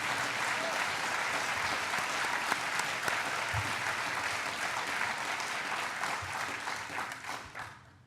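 A large audience at a fall university welcome event breaks into sustained applause, dense and loud, holding steady for several seconds before tapering off at the end.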